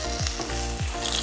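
Potatoes deep fry in hot oil under a lid on a low flame, giving a dense, continuous crackling sizzle, loud and close, with no voices.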